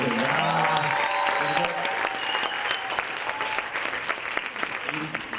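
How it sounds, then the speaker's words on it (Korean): A concert-lecture crowd at a mentoring talk event applauds loudly and steadily for two performers, with cheering voices and talk mixed into the dense clapping. "다시 한번 우리 두 분께 좀 박수를 보내주세요"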